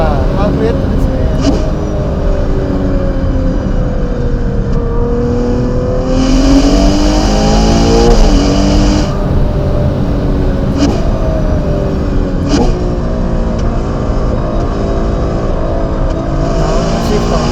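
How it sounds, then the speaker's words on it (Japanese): A Ferrari Purosangue on a winding road with half-wet shaded patches, its engine loud and close throughout, pitch rising and falling as it brakes and downshifts, with sharp rev blips and a strong burst of intake and exhaust roar near the middle. "ダウンシフトの速さとブレーキングの音が気持ちいいですよね。"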